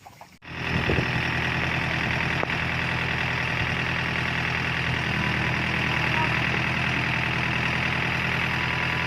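A Yanmar YM351A tractor engine works hard in deep mud in the Philippines, a loud, steady diesel drone with rattling vibration that starts abruptly and holds at full power throughout.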